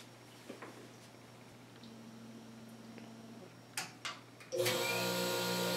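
A microdermabrasion machine switching on after a few faint clicks and handling noises, then running with a loud, steady whirring hum that fills the rest of the stretch.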